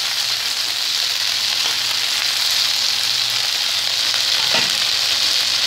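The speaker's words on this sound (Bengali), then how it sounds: "ভাজা ভাজা করে নিচ্ছি আমি" Onion and potato sizzle steadily in a pan over high flame, with a loud continuous hiss and occasional stirring scrapes, no voices.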